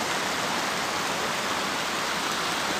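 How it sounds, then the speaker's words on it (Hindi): Mountain spring water cascades down like a small waterfall in Kumrat Valley, a steady, dense, close rushing roar with no pauses and no voices. "ये जो ये चश्मे का पानी है जो ऊपर से आ रहा है आबशार टाइप है"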